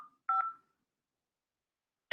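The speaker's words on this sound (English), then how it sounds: "Enter the day you would like to be billed using your phone keypad." Telephone keypad DTMF tones entering a billing day during an automated phone call: a faint tone tail at the start, one short two-part beep burst soon after, and another tone starting right at the end, with silence between.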